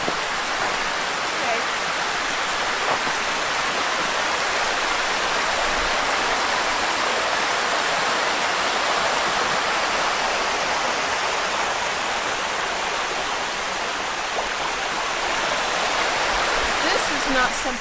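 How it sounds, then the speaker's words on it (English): A small waterfall at Sulfur Springs, running with unusual winter flow amid ice and snow, pours in a steady broadband rush that holds constant and fairly close throughout with no talking. "I just spotted another little waterfall."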